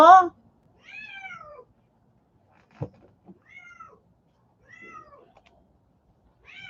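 A pet cat meows indoors, several drawn-out meows spaced a second or two apart with quiet gaps between them, and a voice is briefly heard near the start.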